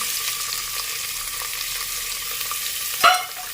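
Sliced onions frying in hot oil after cloves are tempered, a steady bright sizzle with a short louder clatter of stirring near the end, no talk.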